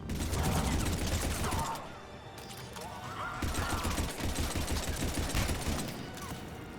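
Heavy gunfire in Mass Effect Legendary Edition during a battle around a pod under attack, with dense rapid bursts loud at first, a brief lull, then renewed sustained firing and a metallic mechanism rattle near the end.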